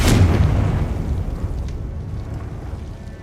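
A Confringo fire spell explodes in the Hogwarts Legacy video game, one loud booming burst at the start that rumbles and slowly fades into a lingering low roar.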